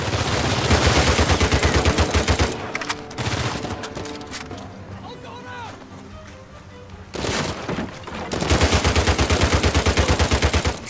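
Automatic gunfire in Uncharted 4, loud rapid bursts of machine-gun shots in rhythmic volleys that ease off midway into scattered shots and clatter, then resume at full intensity near the end.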